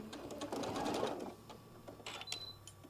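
A sewing machine stitches across fabric for a drawstring bag in one short, quiet burst of rapid needle chatter. A few faint clicks and handling noises follow.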